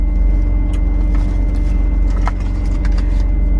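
Interior of a car on the move, with a loud, steady low road and engine rumble and a few faint knocks and rattles over the top, with no one talking.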